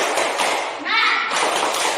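Young pupils in a classroom clap together in a quick rhythmic spirit-clapping routine, with bright bursts of hand claps and soft thumps mixed with children's voices calling out partway through.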